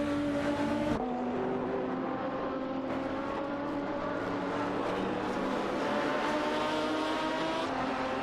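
Race cars in a racing video game, a Porsche Carrera GTR and a Chrysler Viper GTSR, roar continuously with sustained engine tones that shift in pitch as they accelerate and pass, loud and steady throughout with no talk.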